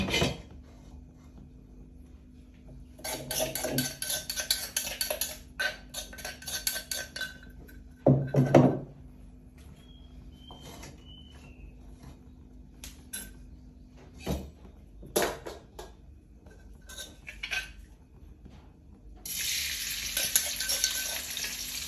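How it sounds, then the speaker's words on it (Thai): Bursts of loud sizzling from a hot oiled wok stir-frying shrimp alternate with scraping and clinking of a metal spatula stirring, with quiet gaps between. "นี่มาผัดกะเพรากุ้งกันครับ"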